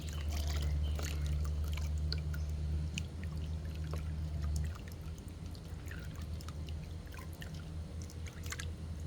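Wet alpaca fiber is lowered into a basin of clean rinse water, giving a soft pour and trickle of water with light splashing over a steady low hum that drops away partway through.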